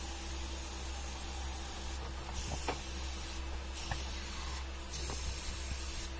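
Foam cleaner sprayed into the cooling coil of a Chevrolet Beat, a steady close hiss running throughout with a low mechanical hum beneath and a few brief knocks.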